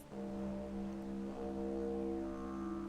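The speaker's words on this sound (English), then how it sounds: "It sounds like a foghorn. Actually, they call it the didgeridoo." A didgeridoo in Reverse: 1999 drones low and steady like a foghorn, a sustained buzzing tone that holds for about three seconds with no talk.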